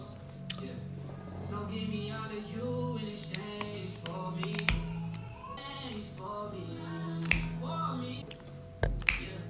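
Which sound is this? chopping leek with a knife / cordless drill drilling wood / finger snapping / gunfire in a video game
finger snapping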